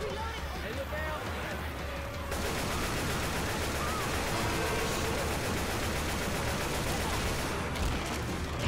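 Continuous gunfire fills a Left 4 Dead 2 Realism Versus match on The Parish map, rapid overlapping shots close and loud, with players talking over it.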